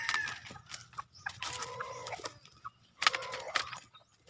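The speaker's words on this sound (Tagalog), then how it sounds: "Ito yung isa yung inahin namin" A backyard mother hen on a small Filipino poultry farm clucks in several short bursts close by, with gaps of quiet between the calls and faint farmyard background.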